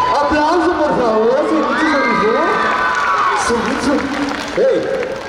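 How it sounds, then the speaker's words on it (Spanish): Children shout and cheer loudly among an excited crowd at an anime festival in a Spanish-speaking venue, with high, sliding voices rising over a thick crowd roar and a little clapping mixed in. "¡Aplauso, por favor!"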